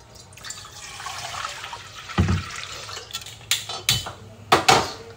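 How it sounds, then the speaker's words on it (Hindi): Water poured into a kadhai on a home kitchen stove to heat for apple puree, a steady splashing stream followed by several sharp metallic clanks of the pot and utensils, close and clear with no talk. "सबसे पहले हम कढ़ाई में पानी लेंगे"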